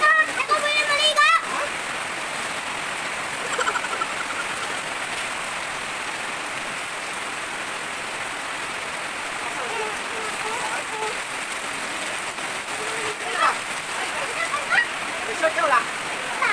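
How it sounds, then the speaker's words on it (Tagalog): Steady heavy rain falling in a rural province, a dense close hiss of drops splattering on surfaces throughout, with someone bathing in it and voices talking over the downpour. "Ang sarap kasi pag umuulan sa probinsya guys, pwede tayong maligo sa ulan."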